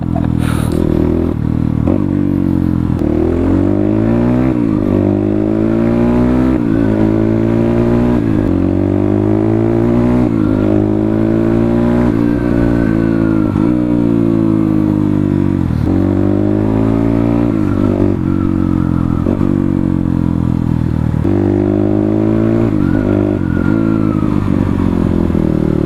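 Nepali motovlogger MRB Boro's light motorcycle ridden in Sikkim, engine loud and close throughout, revving up and down in repeated swells with clattering road noise.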